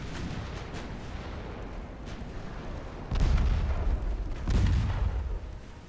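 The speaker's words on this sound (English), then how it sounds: "Main guns shoot at the fucking battleship." Battleship main guns in the naval game Ultimate Admiral Dreadnoughts fire in two heavy, booming salvos about a second and a half apart, rising over a steady rumble of gunfire and ambience.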